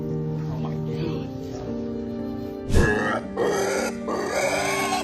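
A pig that nearly drowned in Hurricane Ian floodwater grunts and snorts close by, a heavy burst partway through followed by rougher grunting, all under a talking voice.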